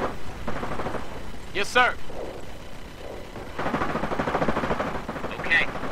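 Battlefield gunfire in Company of Heroes, scattered shots and distant rattling bursts in the background while a voice speaks over the top.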